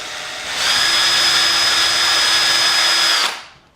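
A power drill bores a 1.5 mm pilot hole into a cigar box guitar kit, one steady high-pitched whine lasting about three seconds that spins up, holds close and loud, then winds down.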